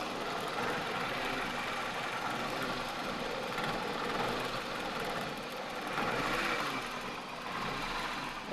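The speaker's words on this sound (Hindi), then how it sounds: "तीसरे इंजेक्टर के ऊपर इंजन जो है ना ज़्यादा वाइब्रेट करने लगी है।" A 2007 Toyota Corolla XLi engine idles roughly with a fault near the third injector, giving a dense, steady mechanical clatter and vibration that runs on without pause, close by and fairly loud.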